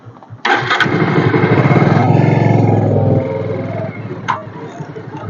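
Motorcycle engine running loudly and close on a rural field road at night as the bike is turned around, a steady revving roar that eases off partway through, with voices talking over it.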